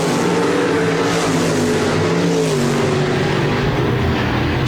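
RaceSaver sprint cars racing at Park Jefferson Speedway, a loud continuous roar of several engines whose pitch bends and wavers as the pack accelerates around the track, close and unbroken.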